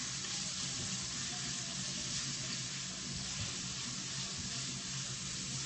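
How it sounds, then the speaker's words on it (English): Sofrito sautés in a pan as a steady, even sizzle and hiss with no clear breaks, continuous and fairly quiet. "we're sauteing over here for about 5 minutes"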